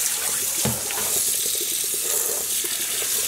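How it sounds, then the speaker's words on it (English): Dyed yarn rinsed under cool running tap water, a continuous close splashing rush with brief wet handling noises, steady and fairly loud, no talk. "I'm rinsing with cool water,"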